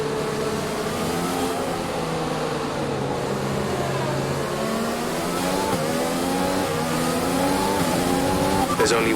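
An F1 race car engine in F1 2020 on the Shanghai circuit in China, screaming steadily near and loud as it climbs and drops through the gears, with faint tire noise and a radio voice over it.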